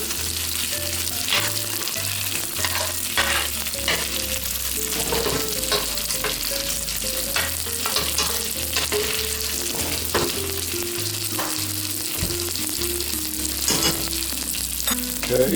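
Steak sears in a hot pan with bacon and onion, giving a steady loud sizzle and crackle. The meat is turned once and stirred in the fat, and quieter low bumps from the pan run under the frying.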